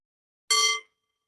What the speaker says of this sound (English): I'm just going to ring the bell for a moment